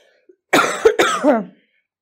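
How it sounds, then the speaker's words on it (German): Two short, harsh coughs close by, one right after the other, then quiet. "Ach, ich muss so viel husten"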